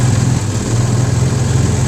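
A 1953 Firestone antique outboard motor, actually a Scott Atwater with a forward, neutral and reverse gear shift, runs steadily at idle with a loud, even, low throbbing drone close by.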